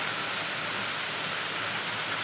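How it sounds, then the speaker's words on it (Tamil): Heavy rain pouring down steadily, a dense, unbroken hiss throughout with no voices. "மழை பாருங்கள் வெளுத்து வாங்குது நல்ல மழை பெய்யுது"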